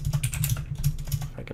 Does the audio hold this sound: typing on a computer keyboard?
yes